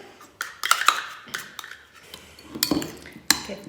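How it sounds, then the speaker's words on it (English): A spoon stirs almond, black pepper and lemon seasoning into food in a pot, giving scattered clinks and scrapes of metal on cookware, moderately close and irregular, with no talking. "We're going to give that a stir."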